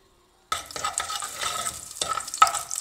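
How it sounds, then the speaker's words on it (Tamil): Pirandai stems and greens are stirred into hot sesame oil, sizzling steadily after a silent start, with scraping stirs and a brief metallic clink near the end. "நல்லெண்ணெய் சுட்ட உடனே இந்த கீரையை வந்து வதக்கி எடுத்துக்கலாம்."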